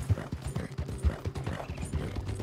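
Hooves clip-clop at a steady trotting rhythm from a horse in Red Dead Redemption 2, close and clear, with a low rumbling backdrop and no talking.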